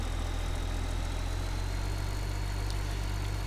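Low, steady engine idle of a slow tractor in a video game, a constant rumble with heavy low-end vibration running unbroken and alone.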